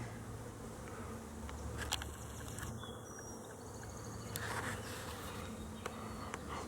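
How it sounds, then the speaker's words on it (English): A dense swarm of bees drones in a thick, continuous buzz outdoors, loud and steady with no talking over it. "That's a lot of bees."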